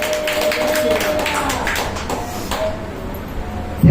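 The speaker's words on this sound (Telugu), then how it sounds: "చప్పట్లు కొట్టు దేవునికి స్తోత్రం చేద్దామా?" A congregation in a church clapping hands, a dense run of quick overlapping claps that thins out toward the end, close and fairly loud with a voice briefly heard beneath.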